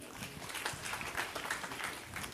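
An audience at a church confirmation service led by an archbishop breaks into faint, brief applause, with scattered hand clapping heard from a distance.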